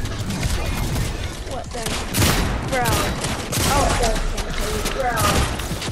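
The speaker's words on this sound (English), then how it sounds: "I'm using the heavy assault rifle" Heavy assault rifle fire in Fortnite rattles out in rapid bursts with booming impacts, overlapping shots piling up across the whole stretch while a player talks over the gunfire.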